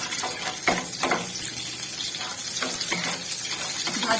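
Bay leaf, green cardamom, cloves and two dried red chillies fry in hot oil in a pan, giving a steady close sizzle with a few sharper crackles and stirring scrapes, heard alone without talk.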